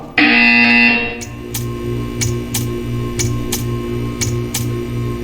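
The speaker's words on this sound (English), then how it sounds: "You will hear a buzzer. When you hear the buzzer, stare at the art." A loud electronic buzzer in the video game Portal 2 blares for about a second, then a steady run of regular ticking clicks continues over a low hum.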